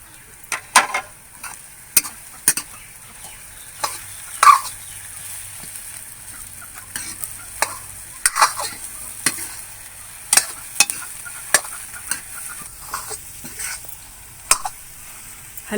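Aate ka halwa is stirred and fried in a kadhai. A steady soft sizzle runs under repeated sharp scraping taps from the spoon against the pan, with no talking.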